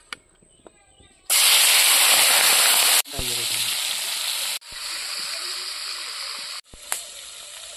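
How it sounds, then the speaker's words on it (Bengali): Freshwater prawns hitting hot oil in a village-style kitchen, a loud roaring sizzle bursting in after a quiet start, then settling into long steady frying hiss in several stretches, close and without talk. "বন্ধুরা, এখন মাছগুলো আমি ভাজি নেব।"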